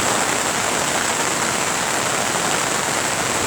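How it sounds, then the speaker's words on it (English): Floodwater from a swollen creek, normally only 5-6 feet wide, rushes loudly after heavy rain, a steady, dense roar of churning water that stays constant throughout with no voices. "I'm going to show you my big creek."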